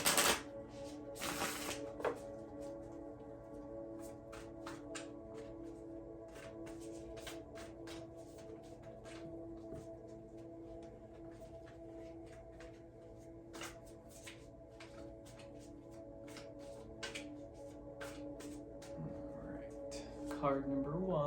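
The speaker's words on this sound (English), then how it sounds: "we will now shuffle our cards and draw the cards for the week" Light Seers tarot cards being shuffled, soft papery riffles and taps running through the whole stretch at low volume, with a louder handling noise near the start.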